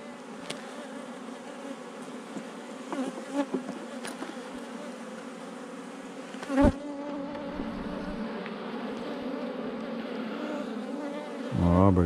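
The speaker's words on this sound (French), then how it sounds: "les abeilles d'en bas" Honey bees buzz continuously at a hive in a dense, steady hum, close by, with a few brief knocks and a louder burst of buzzing near the end.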